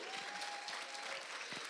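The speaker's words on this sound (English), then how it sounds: "Let's give a round of applause for Jacqueline Wembley." Audience applause at a school district Teacher of the Year celebration, honoring a teacher: dense, steady clapping from a large crowd with no talk over it, lasting a couple of seconds.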